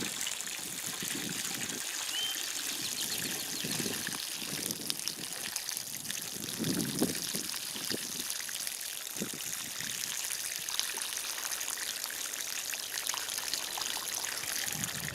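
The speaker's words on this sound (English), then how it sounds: "I'm just dumping a ton of water in here." Water poured in a steady trickling stream onto a container of super soil, with continuous close splashing and gurgling throughout, some louder surges of gushing in the middle, and no talking.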